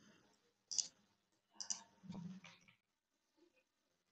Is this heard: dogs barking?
no